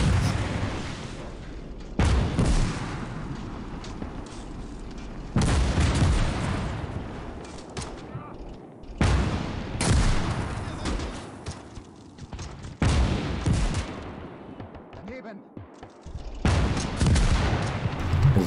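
Repeated mortar blasts and bursts of gunfire in the WW2 strategy game Gates of Hell: Ostfront, loud booming impacts arriving every few seconds with rattling fire between them and no talk.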